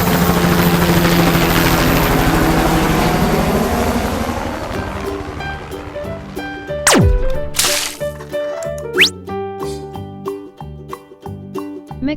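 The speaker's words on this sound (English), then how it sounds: "Helicopter." Loud, throbbing helicopter rotor noise dominates at first, then gives way to a series of toy-like tones and sweeping electronic sounds.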